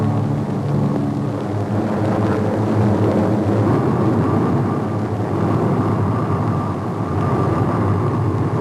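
A Ford aircraft taxis across solid concrete toward a parking position on the apron, its engines giving a steady, loud rumble with continuous drone throughout and no speech.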